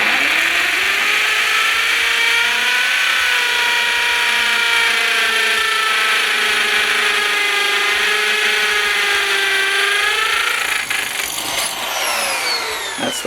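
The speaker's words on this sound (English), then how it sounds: "I drop this here, and then I just drill until I hit my depth gauge" A power drill bores a hole into a concrete floor for a flooring transition strip, a loud continuous whining grind with a steady pitch that shifts slightly before winding down near the end.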